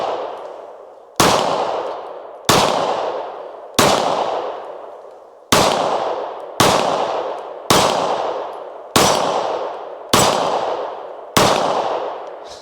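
Springfield XD Mod 2 9mm pistol fired at water jugs on an outdoor range: ten loud, sharp reports spaced about every second and a quarter, each ringing and decaying before the next, with no talking.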